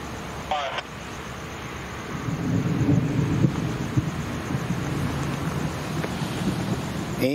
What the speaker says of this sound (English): And you hear the thunder, which is common for this time of year.